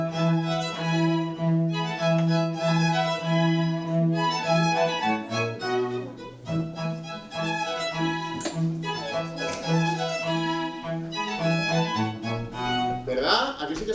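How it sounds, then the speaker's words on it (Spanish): Opening of Vivaldi's Spring from The Four Seasons, a string orchestra playing bright, rhythmic repeated phrases with short pauses and a brief quieter passage before the full ensemble returns, loud and close. "Pues el principio de la primavera suena así."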